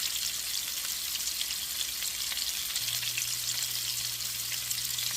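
Pork sizzling as it fries in a pan with apples in a Southern-style dish: a continuous, close, bright crackle and hiss holding steady throughout, with a low hum joining partway.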